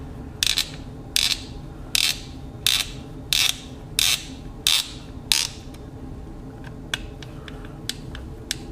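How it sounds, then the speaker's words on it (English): A ratchet tightens the four mounting screws during a build, with about eight sharp evenly spaced clicking bursts close by, then lighter scattered ticks, no talking. "Tighten the 4 mounting screws."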